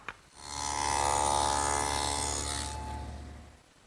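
A table saw fitted with a dado cutter ploughs a quarter-inch groove in wood, a close, loud whining buzz that rises quickly, holds steady for a few seconds, then winds down.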